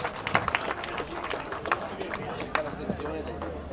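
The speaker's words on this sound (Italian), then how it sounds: "Un grande applauso" Audience applause at an Alpini centenary gathering in San Colombano, a steady patter of many hands clapping with sharp individual claps, mixed with crowd murmur and nearby voices talking.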